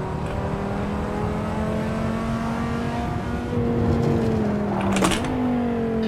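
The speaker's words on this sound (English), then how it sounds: "I'm just going to try and floor it and see what happens" A 1995 Dodge Viper RT/10 at full throttle in the Assetto Corsa racing game, on the Nordschleife. The engine drones steadily, then climbs in pitch and drops sharply at a gear shift before pulling again, loud and continuous.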